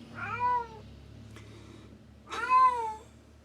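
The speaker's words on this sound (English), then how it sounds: "Jump cut, I need to let the cat out." A cat meows twice, close and clear, each a drawn-out, rising-and-falling call separated by a short pause, with only a low steady hum beneath and no talking.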